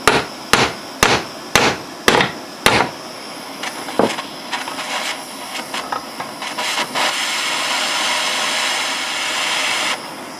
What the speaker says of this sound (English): You always want to use the ball side of the hammer on something like this